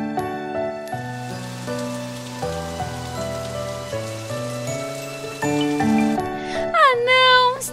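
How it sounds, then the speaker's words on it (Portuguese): Rain falls in a children's cartoon, a steady patter under a sung melody with instrumental backing, ending with a rising tinkly flourish. "Chuva, chuva, vai embora."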